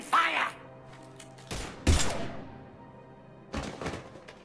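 Gunfire in the Mass Effect game, a few sharp broadband blasts spaced over several seconds amid game ambience and some speech, moderately loud and close.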